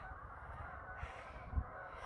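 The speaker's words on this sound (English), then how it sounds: "too much squawking" A flock of crows caws and squawks steadily at a distance, the calls overlapping into a constant low chatter with one slightly louder call near the end. No one speaks.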